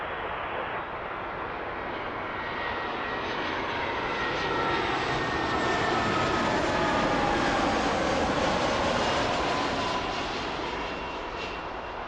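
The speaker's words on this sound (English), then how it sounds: "here comes a A319 from Nashville" An Airbus A319 jet airliner from Nashville roars at Toronto Pearson airport, a loud, broad engine rumble swelling steadily and peaking mid-way before easing slightly, continuous throughout.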